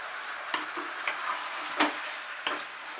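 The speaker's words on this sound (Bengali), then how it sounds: "ভালো করে মিশিয়ে নিচ্ছি পেঁয়াজের সঙ্গে" Marinated chicken frying with onions over medium heat in a Bengali coriander chicken curry, a steady soft sizzle broken by a few sharp scraping stirs spaced about a second apart.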